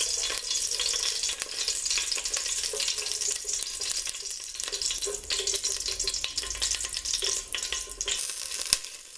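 Oil heats in a pot over medium-high heat on the stove, giving off a steady, close hiss and sizzle with faint crackles and no talking.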